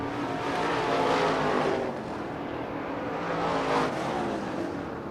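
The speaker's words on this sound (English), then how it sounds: "Scott Olchen, Chris Bolio, your top 4 hot rods working across the back straightaway for the final time here in heat race number 7." Hot rod race cars roar around the Central Arizona Raceway dirt oval in Casa Grande during a heat race, a continuous engine drone from across the track that rises and falls as the pack passes, with no voices.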